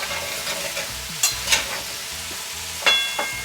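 Pumpkin with red chili, bay leaves, panch phoron and salt being stirred in a pan, with a soft sizzle and a few sharp scrapes and clinks of the spoon against the pan, close and without talk.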